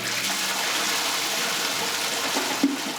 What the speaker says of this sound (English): Let's go ahead and flush it.